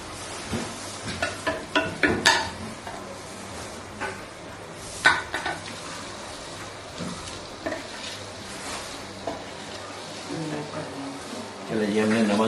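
Onions frying in oil in a pot for biryani, sizzling steadily while a spoon scrapes and clinks against the metal in short bursts, with a person talking over the cooking.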